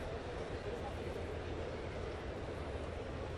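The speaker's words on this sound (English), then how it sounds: "As the train rolls by for the third time." A train rolls past near a Seattle baseball park on a warm day during a Mariners–Rays game, a steady broadband rumble filling the whole stretch, with crowd and ballpark ambience blended in.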